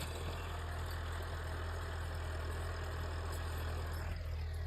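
A tractor engine idles in a Punjab wheat field at sowing time, a steady low throbbing drone with constant mechanical hum, close and even throughout, no voices.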